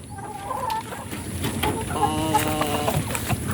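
Rhode Island chickens cluck and chatter steadily at feeding time in a farmyard, with several birds calling close by amid faint background noise.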